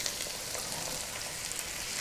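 Peppers hitting a pan of garlic and onions, giving a continuous close sizzle with bright, crackly frying for about two seconds.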